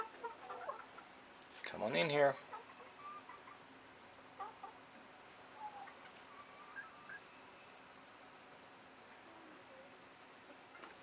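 A chicken gives a brief burst of clucking near the start, with a person speaking softly nearby, then quiet outdoor ambience with insects.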